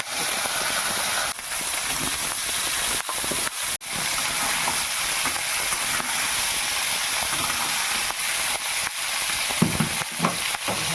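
Potato, onion and green chilli frying with crushed garlic in a pan for a dried lote fish curry, a steady loud sizzle and hiss with repeated scraping stirs throughout.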